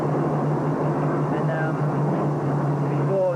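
Car engine idling while running on a Joe cell, a steady low hum with constant droning tone under light background noise, close and continuous throughout.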